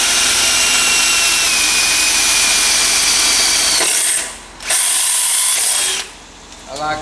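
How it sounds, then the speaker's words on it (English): A step bit drilling through metal with a loud, continuous high-pitched grind that stops briefly twice as the drill lets up, then resumes and winds down near the end. "I like them step bits"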